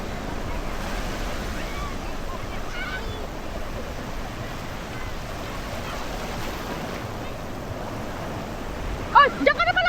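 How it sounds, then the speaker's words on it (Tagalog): Ocean surf rolls onto a resort beach in a steady, moderate wash of noise with some wind, and a brief burst of other sound near the end. "Relax lang ng alon."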